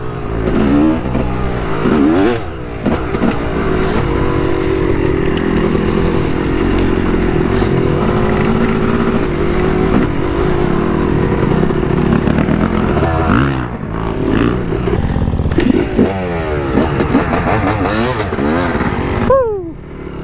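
Dirt bike ridden along an urban trail up to a road, its engine loud and close throughout with revving and throttle changes plus clattering over rough ground.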